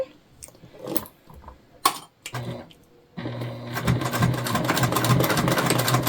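A sewing machine runs a back stitch on a self-drafted tote bag, a few short starts first, then a steady whirring run through the second half.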